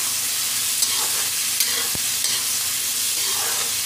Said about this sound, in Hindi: अब इन सभी को अच्छे से भून लेंगे।